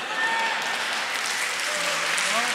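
Audience clapping at a Hindi comic poetry gathering, a dense, even wash of applause that holds steady throughout.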